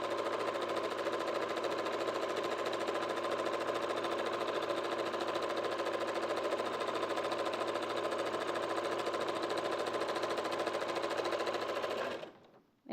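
Sewing machine stitching wool fabric: a fast, steady, close mechanical whir and rapid needle rattle running unbroken for about twelve seconds before it stops abruptly.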